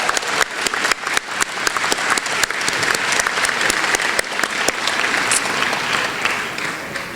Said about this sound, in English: Round of applause for all the people that made this happen tonight.